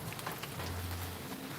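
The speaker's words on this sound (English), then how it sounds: "You see the condition? It's raining." Rain falling outdoors in Jamaica: a steady, even patter of drops on surfaces, fairly quiet and continuous throughout, with a low hum underneath and no speech.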